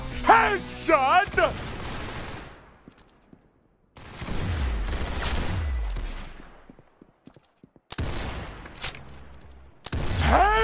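Video game gunfire rings out in a competitive match on the Township map, with loud sharp bursts and echoing shots in several clusters, mixed with game voice lines.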